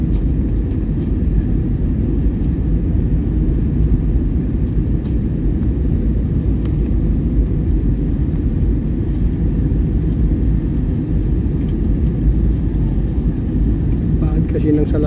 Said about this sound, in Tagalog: Ayan na, palanding na tayo.